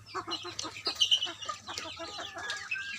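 Young chicks in a farm coop give rapid, overlapping high peeps and soft clucks, close by and continuous over a low background hum.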